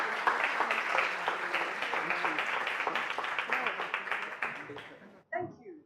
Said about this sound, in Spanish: Porque pido un aplauso.